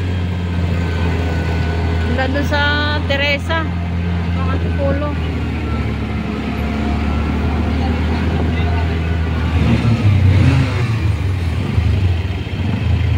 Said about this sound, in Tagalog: Grabe ang haba ng traffic guys